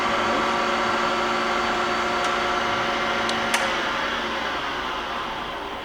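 A Wells-Index vertical milling machine with an R8 spindle runs at a steady speed, giving a constant mechanical hum and whine that holds evenly throughout, with a few faint ticks near the end.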